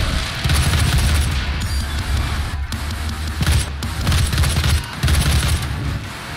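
Repeated gunfire and heavy blasts from grenades in the DOOM video game, loud and sustained, with dense bursts recurring over the whole stretch.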